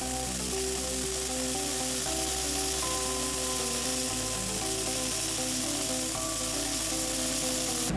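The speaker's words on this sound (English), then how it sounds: "For heavy-duty applications such as paint removal, a more aggressive blasting nozzle may be required, such as the howitzer nozzle shown here" A Commando 40 dry ice blasting machine fitted with a howitzer nozzle for heavy paint removal gives a loud, constant hissing roar that stays the same for the whole clip, with a low mechanical drone underneath.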